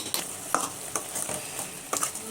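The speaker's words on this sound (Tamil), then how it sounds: "அப்படியே நல்லா வதங்கட்டும்." Prawn masala sautéing in a pan, with crisp spatula scrapes and clacks every half second or so over a soft sizzle, close by and with no one speaking.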